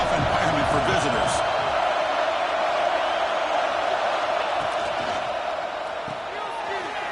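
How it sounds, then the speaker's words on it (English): A crowd roars steadily in a college football stadium during an LSU versus Notre Dame game, a dense, continuous wall of cheering with a commentator's voice over it. "Listen to the crowd energy here in the early going. This is a tough environment for visitors."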